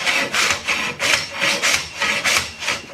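A piece of cut steel is scraped forwards and back across another steel piece on a pile to knock off cutting dross. The harsh rasping strokes come loud and close, about seven of them in a steady rhythm.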